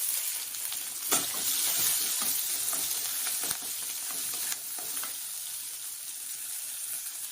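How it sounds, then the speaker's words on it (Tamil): Garlic cloves and curry leaves sauté in a pan for a South Indian sundal kadalai kulambu, giving off a steady, close sizzle with occasional clicks of stirring and no talking. "கொஞ்சம் கூட கருவேப்பிலை இதே போட்டு வதக்கிக்கலாம்"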